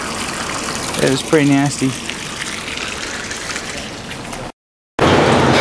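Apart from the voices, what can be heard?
rusty water and coolant draining from a Ford F150 radiator flush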